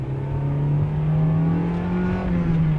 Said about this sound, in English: we give it some first gear, rev it up just a little bit, not too much.